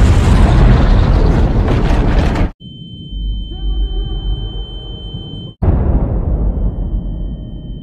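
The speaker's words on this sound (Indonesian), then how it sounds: "bom tersebut meledak" A bomb blast in a Batman 2022 film scene erupts in a huge roaring burst, cuts to a ringing high tone with a muffled low rumble, then a second loud roaring burst returns.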